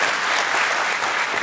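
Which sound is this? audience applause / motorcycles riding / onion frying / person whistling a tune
audience applause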